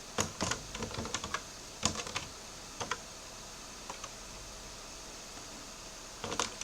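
Keystrokes on a computer keyboard while entering commands during Linux NFS server administration: scattered single clicks and short quick bursts of typing, close and fairly quiet, with no voices.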